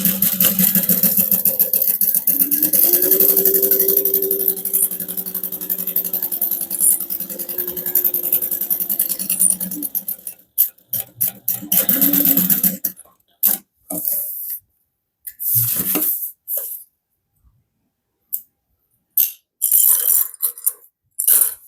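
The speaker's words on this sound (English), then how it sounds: "we're going to sew that together using a 3/8 inch seam allowance" A sewing machine stitches a 3/8 inch seam on a harmonica hobo bag, whirring steadily for about ten seconds, then breaking into short stop-start bursts with gaps of silence.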